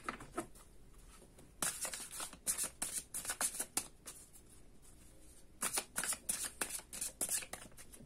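Tarot cards being shuffled in repeated bursts of quick riffling flutters, close and crisp, with short quiet pauses between rounds.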